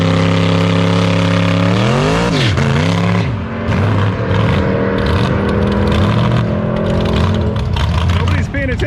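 A drag racing truck at the strip on its first pass, with a loud engine droning steadily, then dipping, revving up again and holding a strong, continuous roar up close.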